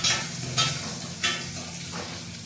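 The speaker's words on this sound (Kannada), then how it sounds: "ಮೆಣಸಿನ್ಕಾಯಿ, ಮೆಣಸಿನ್ಕಾಯಿ ಸ್ವಲ್ಪ ಫ್ರೈ ಆಗಲಿ" Green chillies frying in a pan, a continuous soft sizzle broken by a few brighter stirring scrapes, close and alone without talk.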